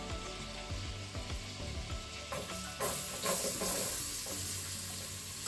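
Onions frying in melted butter inside a Crockpot Express multicooker, a steady sizzle with a few scrapes and clinks of a spatula stirring, close and continuous with no talking.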